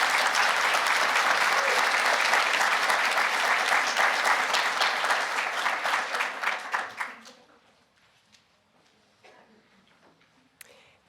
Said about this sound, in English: One final round of applause for all of them.